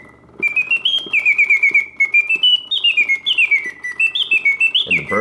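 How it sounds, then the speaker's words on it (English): A Karl Griesbaum mechanical singing bird cage automaton trills loud, close birdsong: a run of quick, oscillating whistled chirps in repeated bursts that sweep up and down in pitch, with a soft mechanical ticking underneath and no voices. "the bird song is also perfect, hitting all of the proper oscillating notes"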